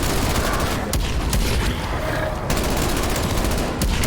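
Dense, loud gunfire rattles without pause in Call of Duty's Die Maschine zombies map, rapid automatic bursts overlapping with heavier blasts and booms.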